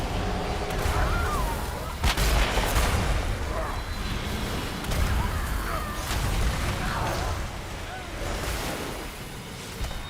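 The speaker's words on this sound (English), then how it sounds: "The cannons will soon reduce the opposition to rubble." Cannon fire booms in World of Warcraft, with heavy blasts landing over a roaring, wind-like wash of battle noise, while voices speak over the din.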